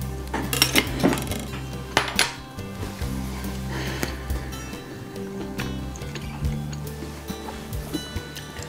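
A knife and fork work through a piece of tender sous vide blade steak on a plate, giving sharp metallic clinks and scrapes in an irregular rhythm against a quiet room background.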